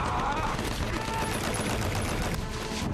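Dense gunfire from a Hacksaw Ridge film battle scene, a loud continuous fusillade of overlapping shots filling the whole stretch, with voices faintly beneath.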